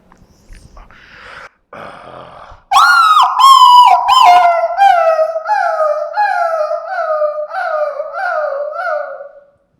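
A human voice imitates street dogs fighting in a slum. After soft, scattered noises, loud wavering yelps and howls break out, each sliding downward, repeating over several seconds before fading.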